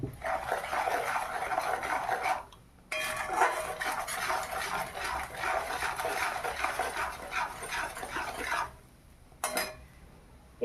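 Spice paste for a papaya and potato dish is sautéed in a pan, continuous metal spatula scraping and clinking against the pan in long bursts, with a couple of short pauses, close and clear, no speech.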